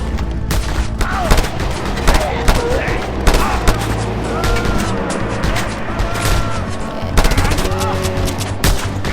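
Rapid bursts of gunfire in the video game Just Cause 2 crackle through most of the stretch, with sharp shots and booms over a busy mechanical background while a voice talks intermittently.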